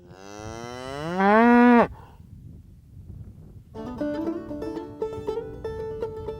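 Cow on a mountain farm with snowy winters and summer pastures lowing once in a loud, rising moo lasting under two seconds, followed after a pause by soft distant farm ambience and a faint higher bellow.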